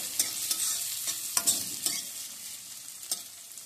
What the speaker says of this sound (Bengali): এবার পেঁয়াজটা আমি একটু ভেজে নেব।